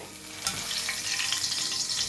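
Chopped green chilies frying in hot oil, a steady bright sizzle with crackling bursts that flare up after a short quiet start, close and fairly loud with no talking.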